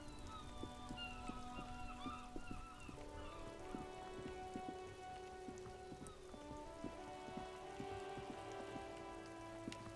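Rain falls steadily in the video game Disco Elysium, a soft continuous patter with scattered drip taps, layered over a gentle, sustained tonal music bed.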